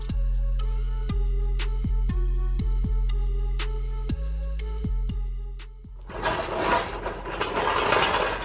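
A battery-powered impact gun running on weak batteries while working on a Japanese mini truck, a repeated whirring motor with sharp clicking impacts that sag in strength, then giving way to a noisier rattling burst near the end.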